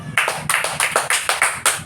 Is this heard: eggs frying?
no